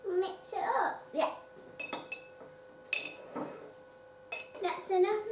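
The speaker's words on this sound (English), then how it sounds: "So first we're going to have one beaten egg, so would you like to whisk that?" A beaten egg whisked in a bowl in a home kitchen, quick irregular clinks and taps of a utensil against the bowl, close, mixed with an adult and someone talking.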